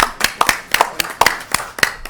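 A small group in a Senate health and welfare committee hearing room gives a sparse round of applause. Distinct, uneven hand claps ring out roughly every quarter second, close and fairly loud, with no talking over them.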